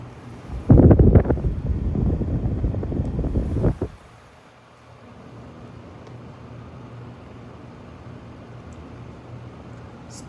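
A 2025 Vornado 660 whole-room air circulator fan runs at speed 3. A loud rushing gust fills the first few seconds, then drops to a steady, softer airflow whoosh with a low hum.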